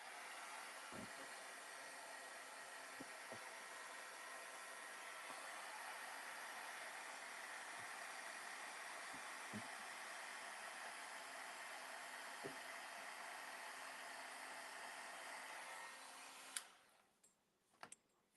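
A heat gun melts embossing powder in a craft setting, giving a steady, faint blowing hiss for most of the stretch with a few soft clicks, then cutting off near the end.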